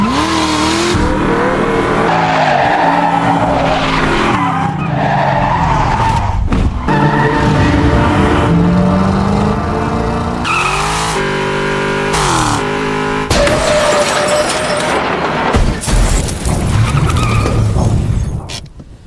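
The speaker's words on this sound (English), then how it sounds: "the pursuit continues until David rams her car with the truck" A car chase in which a truck rams a car: loud tire skids and squeals, revving engines and crashing impacts come in rapid, chaotic bursts, close and intense throughout.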